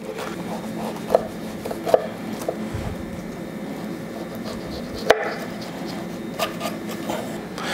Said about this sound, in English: grab your knife and take your slices this way. Nice brittle crust.